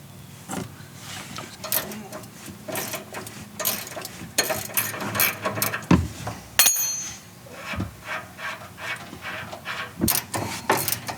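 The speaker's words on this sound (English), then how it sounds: "I need to hold the top of that and turn the wrench at the same time." Wrench ratcheting and clanking while loosening a bolt on the front anti-sway bar of a Ram 3500 truck, irregular metallic clicks and knocks close by, with intermittent talking.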